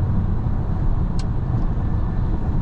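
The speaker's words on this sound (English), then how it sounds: "I just love that humming sound from this car." Steady low humming drone of the pedestrian warning sound on a 2023 Mercedes-Benz EQE 500 4Matic electric SUV, loud and constant throughout, with a tiny click partway through and no talking.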